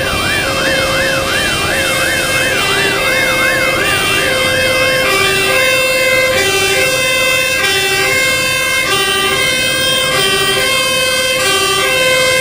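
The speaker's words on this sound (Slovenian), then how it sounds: "Prihaja tudi sodobno vozilo PGD Cerknica, ki ima tudi 1500 litrov vode in ogromno opreme za reševanje oziroma za gašenje." A modern fire engine of the Cerknica volunteer fire brigade arrives at a school technical day with its siren wailing loudly and steadily over a rumbling engine. The siren stays close and continuous throughout, with no voices.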